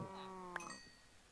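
A Minecraft cow moos once, a long and steady call that fades out, fairly clear over a quiet game background.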